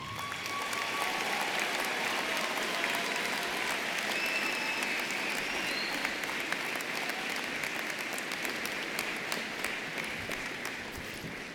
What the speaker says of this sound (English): Please give your student leaders a round of applause.